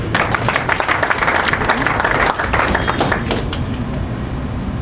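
A church congregation claps for themselves during a sermon, giving loud, sustained clapping with a busy, crowded texture that eases slightly toward the end. Some voices mix in underneath.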